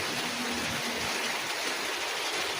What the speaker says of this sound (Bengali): অবশিষ্ট সকাল থেকে বৃষ্টি হচ্ছে, দেখা যাক বৃষ্টি কতক্ষণ থাকে